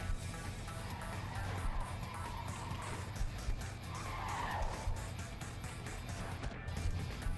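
Trucks skid and tires squeal continuously in the Cluster Truck video game, a loud, dense screeching roar with engine noise and occasional thumps running throughout.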